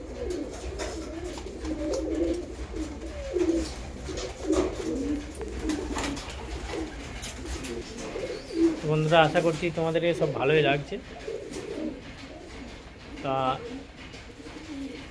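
Giribaz pigeons coo from a loft, soft repeated throaty calls near the microphone that come in bursts, most clearly in the second half, while someone talks over the earlier part.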